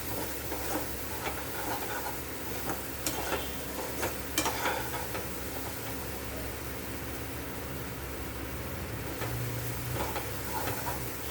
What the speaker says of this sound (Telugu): ఇది మాడకుండా ఫ్రై చేసుకోవాలండి